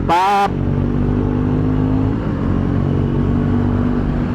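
A Triumph Scrambler 400X motorcycle being ridden, its engine giving a steady, loud rumble with constant drone and a brief higher whine at the very start.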